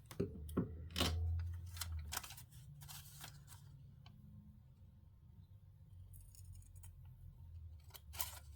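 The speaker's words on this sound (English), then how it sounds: "I'm thinking scissors is probably going to be the easiest on these" Scissors snipping through soft chocolate in a small chocolate-shop setting, several crisp cuts clustered early, then sparse faint snips over low background hum.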